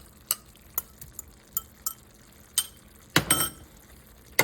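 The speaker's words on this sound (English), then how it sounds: "And give it a stir." Shrimp stirred in a pan at home, giving a series of scattered light clinks and scrapes, then a louder burst of scraping and sizzle near the end.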